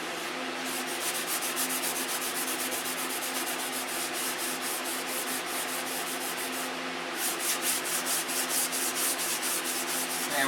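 Hand sanding of still-damp primer: a continuous, fairly loud scratchy rubbing in quick repeated back-and-forth strokes, steady throughout with no talking.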